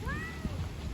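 A single short cat meow, rising then falling, over low background rumble, outdoors in the rain at a feeding spot.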